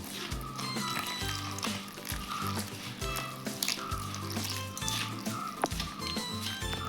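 Water pours and trickles into a bowl of banana fritter batter mix with turmeric, baking soda, salt and sugar, a light splashing liquid sound with faint clinks, close and moderately quiet.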